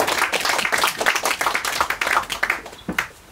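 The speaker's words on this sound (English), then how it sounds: "Yes, applause, please." Audience at a literary talk on Moby-Dick claps in a moderate, uneven round of applause that thins toward the end.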